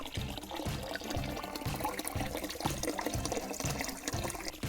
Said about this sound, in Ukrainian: А булькотало тут ось джерело.